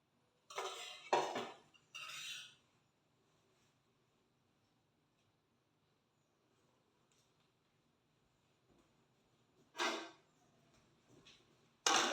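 An old metal pan clatters against kitchen dishware as it is set beneath a bowl, giving a few loud, close clanks and scrapes separated by quiet stretches.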